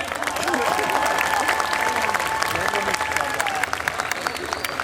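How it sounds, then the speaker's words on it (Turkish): A crowd at an outdoor concert in Antalya applauds steadily, dense clapping filling the space for several seconds with a faint voice underneath. "Başkanıma kocaman bir alkış"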